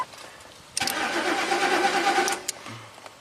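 A Ford engine with no fuel pressure cranks briefly and then catches, its loud churning starter-and-engine roar running for about a second and a half before settling, with no talk over it.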